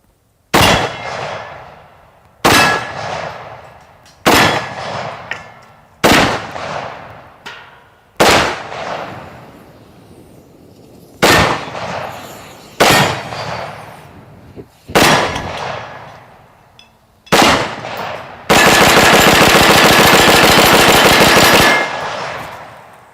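Loud, close bursts of rapid gunfire from a Houlding G2L carbon fiber AR-15 on a hot outdoor range, with about nine sharp separate volleys, each ringing out, then a sustained continuous roar of fire near the end.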